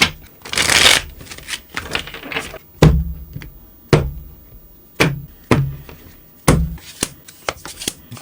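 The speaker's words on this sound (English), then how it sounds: "3 more shuffles and let's begin" Tarot cards are shuffled and riffled close up, with a burst of flutter followed by repeated sharp taps and slaps at an irregular rhythm.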